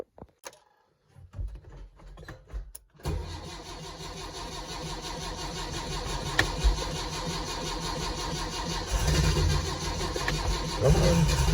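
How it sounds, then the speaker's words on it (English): An old car engine without a choke turns over after a few faint clicks, catches, and settles into a loud, steady, slightly rough cold idle that swells a little toward the end, with no talk. "No choke on this engine, so it's always a little cold to start."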